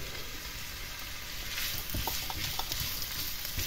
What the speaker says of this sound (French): Une fois le saindoux fondu, on y ajoute nos oignons et nos lardons.